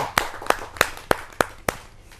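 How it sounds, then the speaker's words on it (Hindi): Sparse claps from an audience at a kavi sammelan as a poet is welcomed to the stage: about six separate, evenly spaced sharp claps, fairly faint and slightly distant, with no talk over them. "आइए जोरदार तालियों से स्वागत करते"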